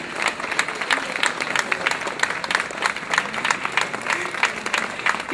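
A crowd at the festive opening of Blanka Matragi's boutique in Bratislava greets her and her husband with lively applause, dense clapping with distinct sharp claps standing out, sustained and fairly close for several seconds.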